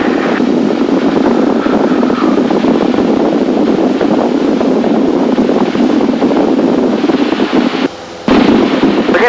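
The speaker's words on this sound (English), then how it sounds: "We're getting a lot of gusts from the right" Gusty wind roars around a small training airplane in flight, a loud, broadband rush that swells and eases over several seconds, with a brief dip near the end.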